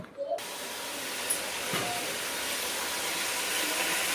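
Eggplant and onion pieces, along with bottle gourd, sizzle in a hot pan with a steady, loud hiss that runs without a break and has no talking over it.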